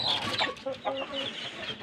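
Bantam chickens in a backyard flock cluck and chatter close by, with busy overlapping calls and short sharp notes over a steady farmyard background.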